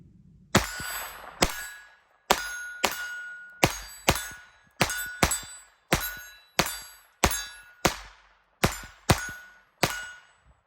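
Kel-Tec P17 .22 pistol fired downrange at an outdoor range: about fourteen sharp, loud reports, spaced fairly evenly, each followed by a ringing decay, and no talking.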